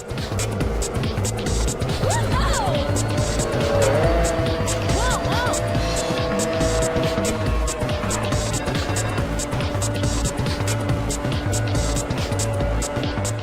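Ridge Racer racing cars roar through a final lap with a steady engine drone and rising tire squeals, heard under ongoing commentary from someone talking.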